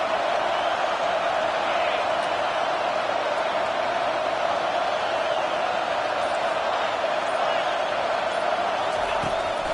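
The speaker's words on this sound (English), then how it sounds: "Now the crowd responding in the red zone" A football stadium crowd roars continuously as the home defense holds in the red zone during a game against Nebraska, a dense, steady wall of distant cheering with no breaks.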